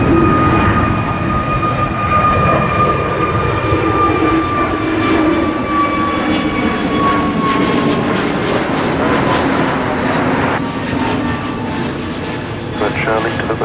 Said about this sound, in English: A320 coming in now. Here on runway 26 left.